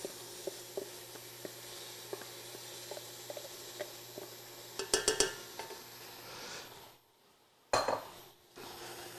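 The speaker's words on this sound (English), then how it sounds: "Now I'm going to add my vegetables back in." Vegetables tumbled back into a pan of beef chili and stirred in, with scattered soft clinks and scrapes of a utensil against the pan, a brief cluster of louder knocks midway, then a quiet gap and one last clatter.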